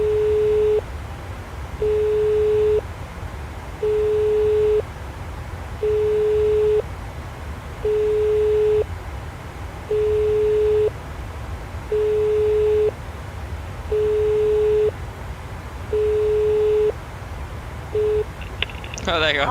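Cockpit interphone calling the cabin crew in a PMDG 737-800 in Microsoft Flight Simulator 2020, a steady hum broken by a regular beeping tone repeating about every two seconds, nine times, with nobody talking.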